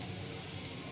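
Cumin seeds hit hot oil in a pan and give a brief, steady hiss of sizzling frying, close and fairly soft, with no voices.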